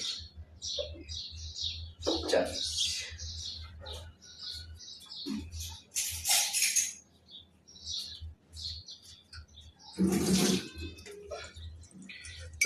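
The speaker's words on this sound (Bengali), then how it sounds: "এই যে দিলাম গ্লুকোজ ঢেলে" A homemade glucose drink is poured by hand into a glass in two splashy bursts, while birds chirp steadily in the background.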